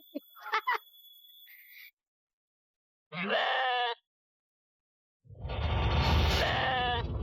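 A goat bleats in a few short, wavering cries, first in quick little bursts, then a clearer call, and finally a longer, louder bleat close by, with silent gaps between them.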